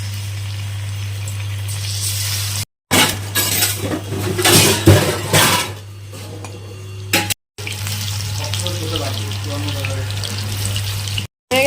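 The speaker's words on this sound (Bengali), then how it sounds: "তেল গরম হয়ে গেছে, এখন এক এক করে পনিরগুলো দিয়ে দেব" Paneer pieces fry in hot refined oil with a loud, continuous sizzle, broken by brief silences and clattering utensils, over a steady low hum.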